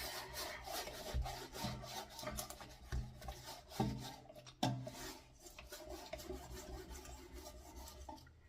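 Old silicone is scraped off the glass of an orchid terrarium in uneven rubbing and rasping strokes with a few sharper scratches, faint and close, alone.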